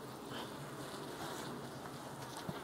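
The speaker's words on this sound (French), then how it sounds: "Il y a un peu d'abeilles, ça va, mais c'est pas non plus..." Honeybees buzz around an open beehive during a hive inspection, a steady soft outdoor drone with a faint breeze and no talk.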